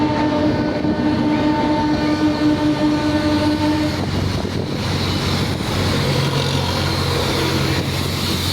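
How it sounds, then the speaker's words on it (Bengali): A train crosses a bridge, its steady tonal horn holding for about four seconds before the rolling rumble of the cars takes over, with gusty wind buffeting the microphone throughout. "ওই দেখুন ট্রেন যাচ্ছে ব্রিজের মধ্যে।"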